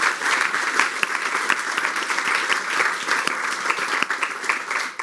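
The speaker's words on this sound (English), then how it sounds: "if we can get a round of applause for our speakers this morning" Audience applause for the speakers at a morning panel event, a steady, dense clapping from a crowd that holds at an even level for the whole stretch, with no voices over it.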